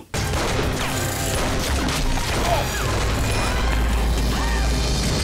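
Gunfire from the action film Hot Fuzz, dense crashing shots and impacts in a loud continuous barrage with a low rumbling bed, no clear talk over it.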